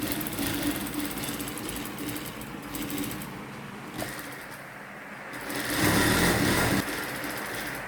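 A sewing machine stitches around a coat piece with a continuous whirring drone that dips briefly midway, then swells into a louder stretch near the end, alone without speech.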